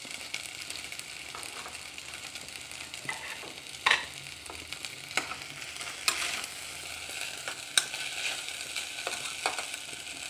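Sabudana khichdi stirred in a pan: a steady soft sizzle of frying with occasional scraping stir strokes, close and fairly quiet.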